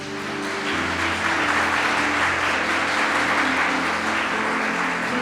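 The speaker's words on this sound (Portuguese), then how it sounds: "Vamos aplaudir ao Senhor, querido." A church congregation claps together during a worship service, a dense, steady wash of applause that swells in the first second and holds loud to the end, with a sustained musical tone beneath.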